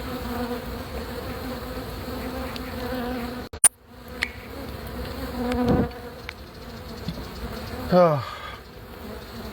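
Honey bees swarm in a dense, steady buzz while a hive is cut out from under house eaves, with a few sharp knocks and a short spoken exclamation partway through.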